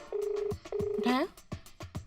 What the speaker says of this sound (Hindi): फोन करा, रिंग बज रही है ना?